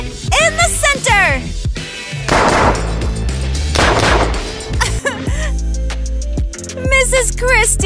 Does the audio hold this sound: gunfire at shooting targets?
yes